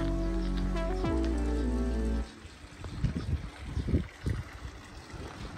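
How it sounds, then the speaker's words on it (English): Soft flowing water trickles and splashes at a restaurant venue, following a loud sustained tonal sound that cuts off abruptly; the water stays fairly quiet and continuous. "That water sounds so good."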